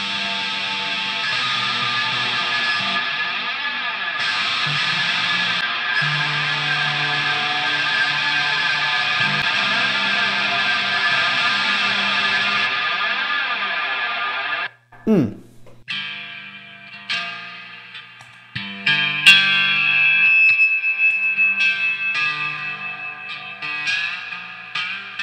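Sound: electric guitar through reverb pedal

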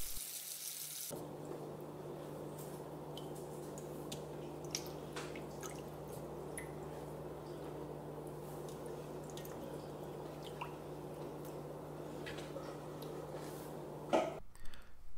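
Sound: rinsing salted mullet roe under cold running water

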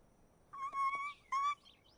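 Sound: birds calling

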